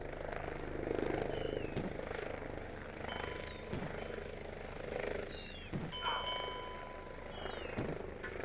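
A helicopter in the VR bar-fight game Drunkn Bar Fight gives a steady rotor drone with a low engine hum, joined by scattered electronic game effects and bursts.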